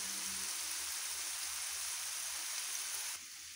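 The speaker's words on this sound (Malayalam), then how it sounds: "വെളിച്ചെണ്ണ ചൂടായി നമുക്ക് അരിഞ്ഞ് വെച്ചിരിക്കുന്നതെല്ലാം ഒന്നിച്ച് അതിലേക്കിട്ട്" Chopped ingredients sautéing in hot coconut oil, a steady, even sizzle like light rain that fills the whole clip and drops slightly in level near the end, with no talking.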